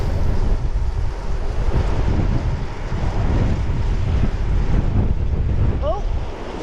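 Strong wind roars and buffets steadily past a cyclist on a windy November bike ride, a loud continuous rush that hardly lets up.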